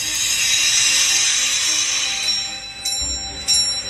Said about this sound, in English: now I think you can hear the bell quite clearly.